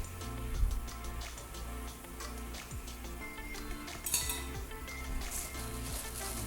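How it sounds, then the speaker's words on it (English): Seafood and its juices simmering in a pan for spaghettini frutti di mare, a quiet steady sizzle and bubbling with occasional light clinks and utensil taps, no talking. "Simmer it"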